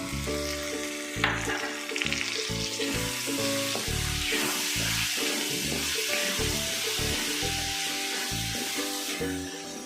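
Three small tomatoes sauté in hot oil in a pan while cooking Kerala-style kappa biryani, a steady loud sizzle with scraping stirs and occasional clinks of a spoon, no talking.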